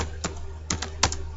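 A few close keystrokes on a computer keyboard enter a command while coding a Python Flask project. Three short clusters of key clicks sit over a low steady hum, with no talking.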